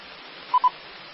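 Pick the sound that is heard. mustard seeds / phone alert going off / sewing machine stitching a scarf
phone alert going off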